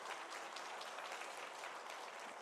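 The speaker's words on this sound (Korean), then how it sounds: "박수해 주십시오." Congregation applause during a Sunday morning church service: a soft, continuous patter of many hands clapping, distant and faint, lasting the whole brief moment with no speech over it.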